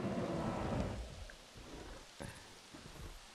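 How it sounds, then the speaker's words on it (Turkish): A thunderstorm with steady rain in the video game Jurassic World Evolution, with a broad wash of rainfall that eases after the first second and a faint crackle of thunder partway through, heard alone without voices. "Bir de fırtına."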